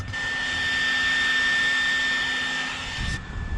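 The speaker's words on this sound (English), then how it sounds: "I installed cooling fans on this thing. They kicked on when it gets above 102 degrees" Aftermarket cooling fans installed on a vehicle switch on to a loud steady whirring hum with a sharp whine, running for about three seconds before cutting off abruptly.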